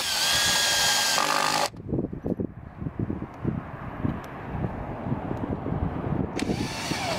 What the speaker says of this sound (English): we're going to provide you with 3-inch screws and a drill